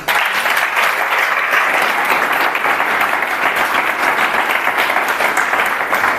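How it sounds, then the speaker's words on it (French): A church congregation applauds steadily through a deliverance service, dense sustained clapping from a crowd filling the whole stretch at an even, loud level. "Acclame Jésus."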